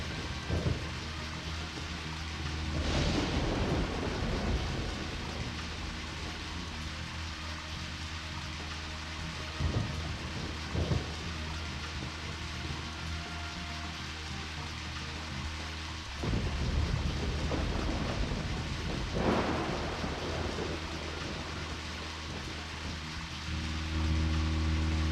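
Steady rain falling in the video game Deadly Premonition, with several low rumbles of thunder rolling in at intervals over the continuous downpour, fairly close and even in level.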